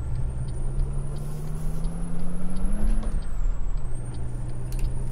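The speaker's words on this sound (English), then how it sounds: "This is what dump trucks sound like around my area, at least." A dump truck in Euro Truck Simulator 2 rumbles loudly with a droning engine that rises in pitch, then settles, and a high whine runs over it throughout, heard alone without talk.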